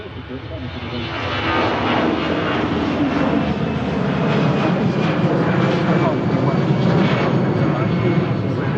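Aircraft engines roaring steadily at Manchester Airport, a loud continuous rumble that swells in the first two seconds and then holds, with a voice talking faintly beneath it.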